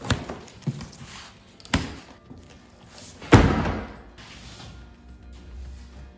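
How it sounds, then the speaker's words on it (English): A cardboard box holding a DeWalt DWX726 miter saw stand is opened, with scattered thumps and knocks of cardboard and parts, one heavier thud midway, then quiet handling rustle. "First, you got to open up the box."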